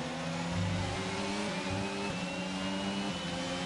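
Ferrari Formula 1 car engine in a PS5 racing game at the Dutch Grand Prix, Zandvoort, a steady high-pitched whine that shifts gear and revs continuously, quiet and alone.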